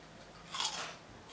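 Crisp crunching bites of an onion ring snack, a short burst of crackly chewing up close, fading then picking up again at the end.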